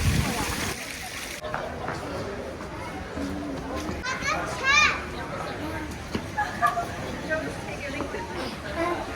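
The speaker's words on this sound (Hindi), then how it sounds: "और बच्चों की हालत ये है कि बस पानी को टच करने की कोशिश करें।" Children play and splash in water in a London park, their excited shrieks and chatter rising over lively background hubbub and occasional sloshing.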